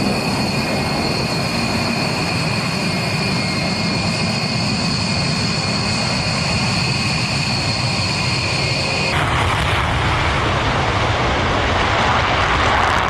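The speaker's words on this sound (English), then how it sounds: "U.S. Air Force bombers escorted by fighter jets flew in international airspace off the coast of North Korea" US Air Force B-1B Lancer bombers with escorting fighter jets flying off the coast of North Korea, a loud steady jet roar with a sustained whine that drops away partway through.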